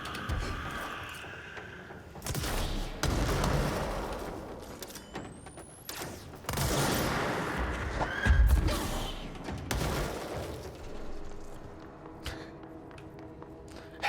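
Gunfire in the video game Control, heard as scattered bursts of rapid shots and thuds spread across the stretch, with quieter gaps and some impacts between volleys, no talk.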